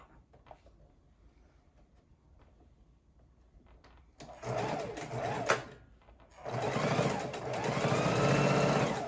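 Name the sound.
sewing machine sewing a quarter inch seam on a pillow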